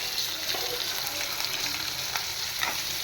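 Green chillies hit a hot tempering of fennel seeds and asafoetida, giving a steady close crackling sizzle with light stirring throughout.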